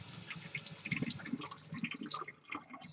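Water runs and drips while etching cream is rinsed off a glass piece, a soft, faint splashing trickle with irregular droplet patter throughout.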